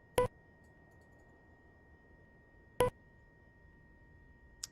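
Short cockpit alert tones in an AS365 Dauphin helicopter in Microsoft Flight Simulator, heard during power-up: two sharp, brief beeps about two and a half seconds apart and a fainter third at the end, over a quiet low hum.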